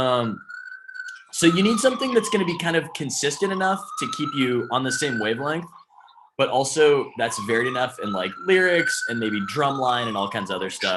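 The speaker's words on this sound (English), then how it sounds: "wow, that's a siren already" A siren wails in a slow rising and falling tone that runs steadily beneath continuous nearby talk.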